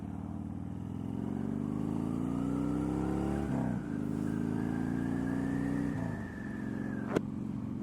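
Harley-Davidson Dyna motorcycle accelerating, its engine droning and rising in pitch through a couple of gear shifts, heard steadily from the rider's position with a brief clunk near the end.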